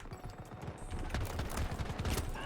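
Battlefield 2042 combat with the DAO-12 shotgun, a dense, close barrage of punchy shots that fires continuously through the whole moment.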